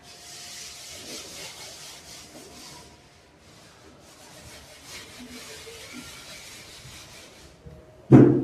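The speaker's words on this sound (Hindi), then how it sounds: "बाकी पूरे सवाल को मैं रब कर देता हूं" An eraser rubbing out math working on a board: soft, steady scrubbing strokes in rhythmic waves, faint and continuous, with a pause in the middle and a sharp knock at the end.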